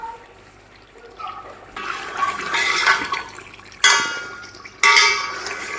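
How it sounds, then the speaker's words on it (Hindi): Water pours into a pot of chicken and rice for a pulao cooked in a kadhai, a steady rushing splash that swells, cuts off, then surges back twice in loud close bursts. "अब इसके अंदर मैं डालूँगी पानी"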